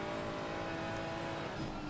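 A Porsche race car engine at the 12 Hours of Monza endurance race holds a steady, buzzing high-revving drone throughout, fairly close and moderately loud, with no talk.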